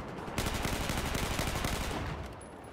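Gunfire in a Battlefield 4 multiplayer match comes as a loud, rapid automatic burst of closely spaced shots that fades slightly toward the end, with no talking.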